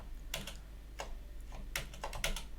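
Keys clatter on a computer keyboard as shortcuts are entered, a few sparse clicks and then a quick cluster of presses, close and crisp in a quiet room.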